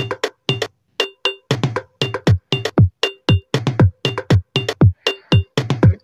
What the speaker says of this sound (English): Kick with drum with a break.